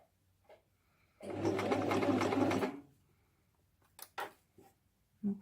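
Sewing machine stitching a fabric bag organiser: a single steady burst of rapid stitching lasting about a second and a half, close and clear, framed by quiet handling clicks before and after.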